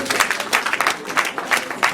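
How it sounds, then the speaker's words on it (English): An audience at a batch stream session claps in a brief, busy burst of overlapping hand claps, fairly close and loud throughout. "A round of applause."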